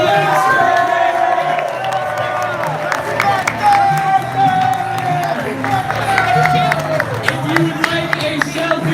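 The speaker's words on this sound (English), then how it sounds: "Can I get another round of applause for the next president" A loud crowd at a Drake University campaign rally cheers and applauds for a presidential candidate, a dense sustained roar of clapping with whoops and shouted voices riding over it from start to finish.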